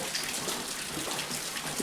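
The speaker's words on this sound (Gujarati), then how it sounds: "વરસાદ એક ધારો એમનું ચાલુ છે" Heavy monsoon rain falls steadily and evenly in Amreli district during a downpour, a dense continuous hiss of drops hitting surfaces, close and fairly loud throughout with no pauses.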